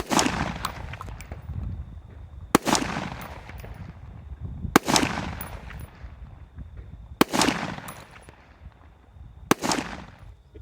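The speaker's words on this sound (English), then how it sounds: "let's throw some rounds down range and see what happens" Gunshots fired at splatter targets ring out as five sharp, loud reports spaced about two seconds apart, each trailing off in a long echoing decay outdoors.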